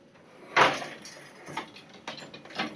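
Wooden weaving loom worked for a twill, with a few separate clunks and creaks as a treadle is pressed and the shed opens, close and fairly quiet with no talking.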